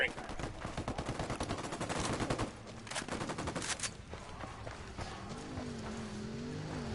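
Rapid bursts of gunfire in the tactical shooter Ghost Recon Breakpoint, loud and repeated in the first half and then thinning out, with a voice speaking over the later part.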